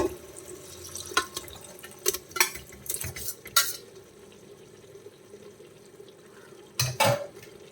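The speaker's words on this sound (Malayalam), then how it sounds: "മട്ടൺ ചേർത്തിട്ട് നമുക്ക് നന്നായിട്ടൊന്ന് ഇളക്കി കൊടുക്കാം." Cooked mutton being stirred into biryani masala in a pan: soft scraping strokes and a few sharp utensil clinks in bursts, quiet in between, with no voices.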